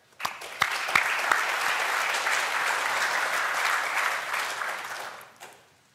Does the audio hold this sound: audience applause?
yes